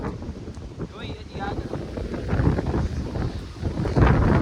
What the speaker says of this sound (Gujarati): જબરી હવા આવે એક નંબર